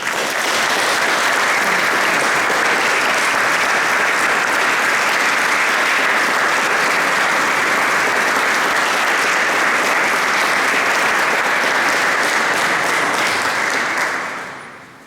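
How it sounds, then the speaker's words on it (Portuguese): Sustained, loud applause from a church congregation during a thanksgiving mass for a 50th wedding anniversary, steady dense clapping for about fourteen seconds before fading out at the end. "Vamos aplaudir."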